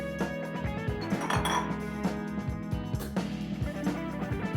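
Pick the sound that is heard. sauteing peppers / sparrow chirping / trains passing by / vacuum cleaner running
sauteing peppers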